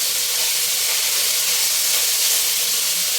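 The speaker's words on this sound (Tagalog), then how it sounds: "Saka ko naman isunod yung bawang sa sibuyas." Garlic and onion sizzle in a pan with a little pork fat, a steady, loud, even hiss of frying that runs without a break and without talk.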